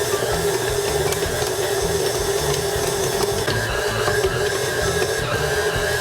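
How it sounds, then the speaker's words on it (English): A stand mixer turns slowly at low speed, working pasta dough made with egg yolks and olive oil. It gives a steady, continuous mechanical whir with a low rumble and no pauses, heard alone throughout. "We're going to continue to mix this on a low speed until everything's incorporated."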